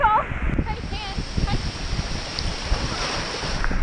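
Rushing water at the top of Kuang Si waterfall in Laos forms a constant, close hiss of falling and splashing water, with brief voices near the start.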